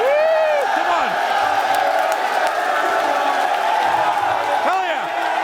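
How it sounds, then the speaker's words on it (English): A large crowd cheers and whoops steadily throughout, loud and continuous, with a voice shouting over it at the start and again near the end. "3, 2, 1, cheer him on"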